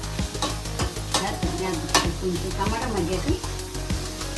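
Tomatoes fry in a pan for palak paneer, salted as they cook, with a steady sizzle broken by repeated scraping stirs of a spoon, close and fairly loud, and a voice talking faintly underneath.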